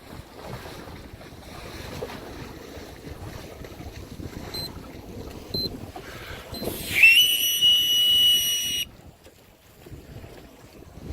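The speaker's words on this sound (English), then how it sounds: "that was the lame 1 minute whistle" A one-minute start whistle sounds at a Flying Scot sailboat race, a single sustained shrill tone of about two seconds, loud and near, over wind and water noise.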